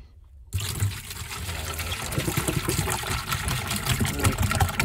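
Water pouring steadily into snow foam concentrate for a Tesla car wash, a close, continuous splashing fill that starts abruptly after a short quiet moment.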